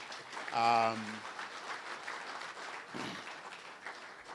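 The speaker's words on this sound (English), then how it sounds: "Good people, I want us to give Acting Governor Dr. Chipika a huge round of applause" A crowd at a panel discussion on de-dollarisation claps softly and fairly distantly for an acting governor, with a brief voice near the start and more murmured speech under the applause.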